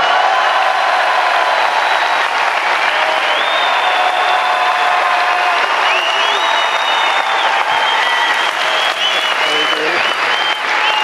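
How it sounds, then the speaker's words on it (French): A comedy show audience in Brest applauds and cheers for a guest, with continuous loud clapping carrying whistles and shouts across the whole stretch. "Alors faites du bruit pour Bruno Grougy, s'il vous plaît."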